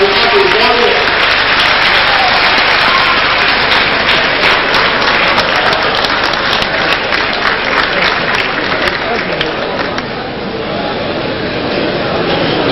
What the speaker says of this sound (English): Shall we please give a round of applause to the President for recognizing that we have a warrior?